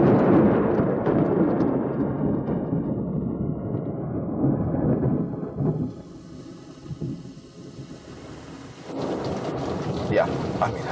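Heavy rain pours down with deep rolling thunder, loud and dense for most of the stretch, easing for a few seconds before the downpour swells again.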